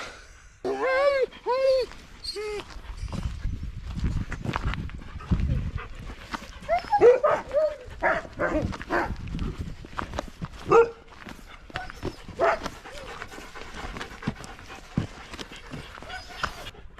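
Sled dogs bark and yelp repeatedly before departure in a noisy, excited chorus, several animals close by, with some rustling and movement between the barks.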